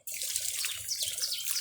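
Water splashes and trickles steadily onto lemongrass plants in a home garden in Sulawesi, a soft continuous pour heard up close and alone.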